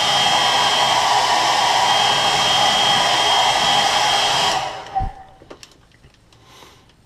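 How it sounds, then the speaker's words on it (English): A heat gun blows hot air to set paint on a crankbait, a loud steady whooshing roar that cuts off near the end, followed by a few faint clicks and handling sounds. "So let me heat set this really quick."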